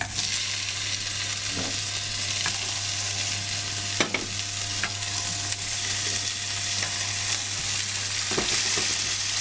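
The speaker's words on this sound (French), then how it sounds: "Donc là, on colore d'abord à l'huile d'olive, puis on va le mettre au four." Red mullet fish bones brown in hot olive oil in a pan, giving a loud, continuous sizzle and crackle with scattered sharp pops throughout.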